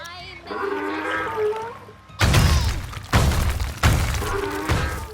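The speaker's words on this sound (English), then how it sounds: "This sturdy statue-like item is dropped from the sky and then smashes through the landscape until it hits the water." A voice is followed by three heavy crashing impacts, each a loud smash with a shattering, crumbling tail, close and punchy like a game effect: a concrete donkey statue weapon dropped from the sky smashing through the landscape in a multiplayer video game.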